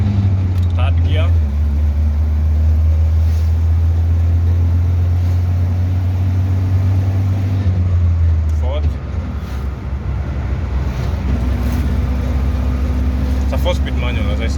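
A 1974 Citroën DS21 with a four-speed manual gearbox drives on tarmac, its loud engine drone steady and close, then shifting around the nine-second mark and climbing again as the car gathers speed in third gear.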